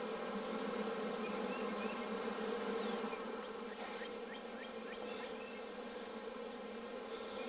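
Honeybees hum in a thick, steady swarm drone during a beehive inspection as comb is pried off, loud and unbroken with no talking.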